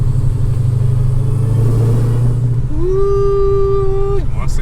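Dodge Challenger Hellcat engine roaring loudly under acceleration, a deep sustained rumble with a rising whine that holds and then drops off as the throttle closes.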